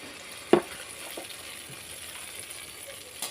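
Banana and rice malpua batter is dropped into hot oil in a kadai and sizzles with a soft, steady frying hiss, with a sharp splash-crackle as a portion goes in and another brief pop later.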